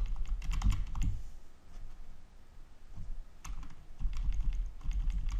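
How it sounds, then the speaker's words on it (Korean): Quiet, rapid clicking of keys on a computer keyboard comes in bursts separated by short pauses, close and soft. "한영 아니 한자 키를 타이핑하고요"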